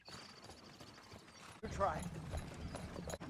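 Carriage pulled by four horses: rhythmic hoof clip-clops and rattling harness and wheel mechanisms begin partway through, fairly close and moderately loud, with faint talk heard earlier.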